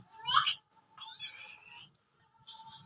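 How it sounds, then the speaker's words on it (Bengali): A cat meows in a home setting, a couple of short, thin, fairly faint cries with small gaps between them, with no talk over them. "হ্যাঁ বিলাই দেখো ইব্রাহিম হামজা বিলাই"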